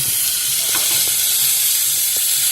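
Chicken frying in a little white oil on a tawa, a loud, close, continuous bright sizzle with hissing steam and a few soft stirring knocks, no talking.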